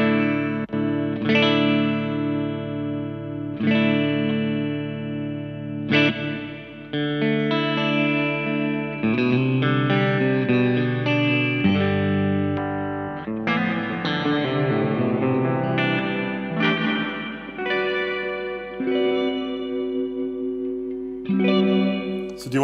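Electric guitar through a Colortone Roundhouse reverb pedal with modulation off: notes and chords ring out with a washy reverb tail, played slowly and steadily with sustained, blended decays.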